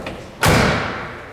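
The door of a 1964 Chevrolet Impala SS swings shut with one solid, close thud, followed by a brief fading ring; no one speaks.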